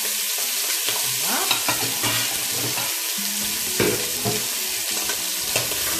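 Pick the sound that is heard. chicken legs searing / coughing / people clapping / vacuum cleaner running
chicken legs searing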